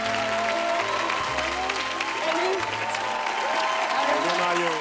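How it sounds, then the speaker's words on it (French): Studio audience applauding as a guest, an under-ice diving cinematographer, is welcomed onto a French-language TV talk show; steady dense clapping fills the whole stretch while a host's voice speaks over it. "Tout le monde applaudir Mario Cyr."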